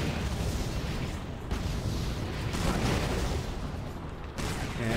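Tank cannon fire and explosions in the Battalion Wars game, dense booming bursts and rumbling impacts over continuous mechanical battle noise, loud and sustained throughout.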